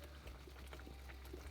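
Water boiling in a cooking pot on a home stove, a soft continuous bubbling rumble with low churning, faint and steady, no talk.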